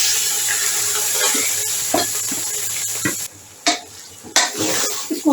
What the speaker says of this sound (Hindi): इसको हम जल्दी जल्दी ऊपर नीचे कर लेंगे चावलों को